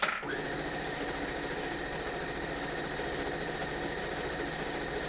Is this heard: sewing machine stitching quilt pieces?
yes